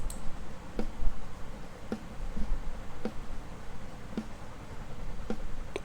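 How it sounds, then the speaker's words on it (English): Raw, unprocessed snare drum stem from a full song mix, struck in a regular beat about once per second, each hit a sharp crack over a low wash of bleed from the other drums. "This is the sound of snare without any mixing."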